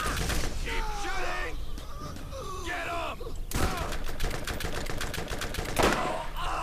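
A shotgun fired in Borderlands, repeated heavy blasts in a rapid rhythm standing out from busy game sounds and music, with someone talking over parts of it.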